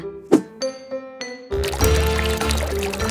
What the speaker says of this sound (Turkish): Karpuz suyu dolu bir sürahi.